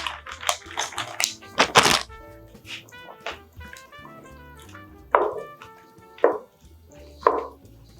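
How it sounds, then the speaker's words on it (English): Frozen cheese tortellini dropped into boiling soup broth for a spicy tortellini soup, a quick burst of thunks and splashy plops followed by three spaced, louder plunks, close by with no talking. "Now in goes our frozen cheese tortellini."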